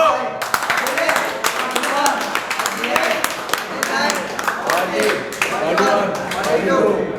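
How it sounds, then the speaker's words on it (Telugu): Group of people clapping during a fitness class in Boduppal: dense, steady hand claps run through the whole stretch, with voices talking over them. "చప్పట్లు"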